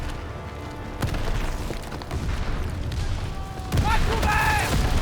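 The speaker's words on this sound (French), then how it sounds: "Barrage d'artillerie!" Artillery barrage explosions in the Call of Duty WWII Hill 493 battle: heavy booms land around 1 and 3.7 seconds within dense, rumbling combat noise, with voices talking over the fighting.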